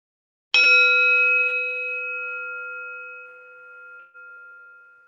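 One clear strike of a bell rings out in a quiet room for a relaxation exercise, its pure tone sustaining and slowly fading for several seconds.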